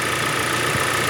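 A Hyundai LF Sonata engine runs at a steady idle, close and loud, with a dense continuous drone and faint ticking.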